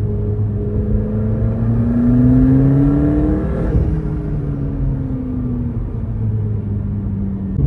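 A limited-edition McLaren sports car engine revs steadily, its pitch rising then easing off in a loud, continuous roar with no voices.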